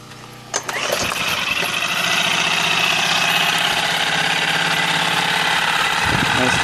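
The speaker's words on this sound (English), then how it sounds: "we'll go ahead and give the old engine a pull" A 2013 Lehr 5HP propane outboard motor, running in a test bucket, is pull-started with a quick yank and catches at once, settling into a loud, steady, buzzing idle that holds close and constant.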